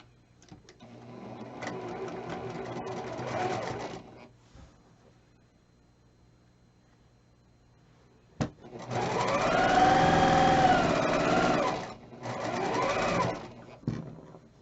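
A sewing machine stitches together the top row of quilt blocks with chevrons, whirring steadily in two runs separated by a quiet pause and a sharp click.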